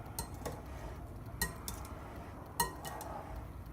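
A utensil clinks faintly against a dish while baked ziti pasta is stirred together with its sauce and melted butter, a few sparse light taps over a quiet background.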